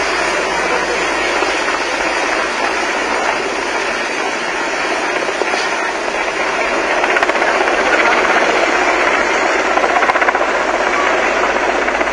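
Loud, close helicopter rotor and engine roar as the Prime Minister's helicopter leaves Nashik for Mumbai, a steady pulsing drone that stays constant throughout.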